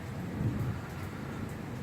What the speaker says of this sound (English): Sorry about the thunder.